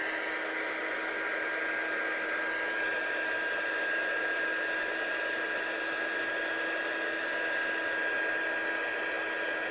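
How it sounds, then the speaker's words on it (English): A heat gun blows a steady, even whooshing hiss while embossing a glossy card sentiment, running continuously at moderate level with no talk. "And then we'll just bring in the heat gun."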